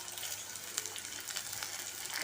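Garlic, onion and black pepper fry in a pan for a spicy tamarind curry, giving a steady, close, fairly soft sizzle with no pauses and no voices.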